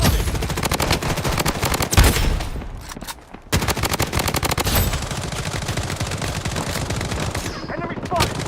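Video game gunfire, dense rapid bursts of automatic shots with sharp cracks, loud and close, broken by a brief lull before heavy firing resumes, with someone talking over the action.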